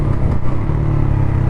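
A Pulsar NS200 BS7 or Yamaha MT-15 V2 motorcycle downshifts, its exhaust giving a loud, close, rough low burble with a brief throttle blip, alone with no voices.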